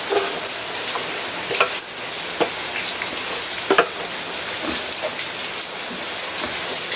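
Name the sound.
stirring corned beef with egg in a pan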